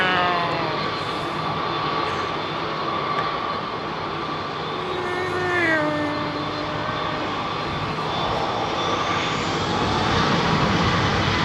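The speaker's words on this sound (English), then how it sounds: "there's another great looking jet just arriving with no special livery on her other than her" A jet airliner arriving at London Heathrow, a steady broad engine roar with whining tones that slide and shift as it passes, loud and continuous throughout with no voices.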